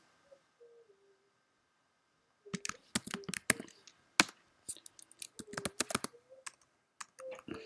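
Rapid bursts of keystrokes on a computer keyboard as a terminal command is entered, a few faint clicks first, then a dense run of clacky taps with short pauses, close and fairly quiet.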